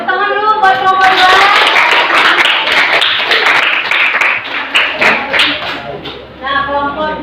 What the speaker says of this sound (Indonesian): tepuk tangan dulu buat kelompok 2.